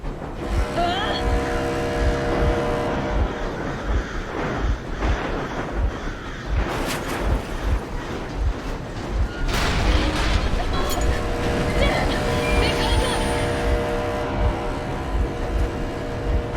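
A vehicle engine runs in the video game Metro Exodus, a steady low rumble under voices speaking and occasional heavy booming impacts.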